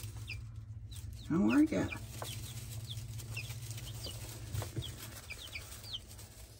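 Baby chicks in a coop cluck in short, soft calls over a steady low hum in the early morning, and a person speaks close by.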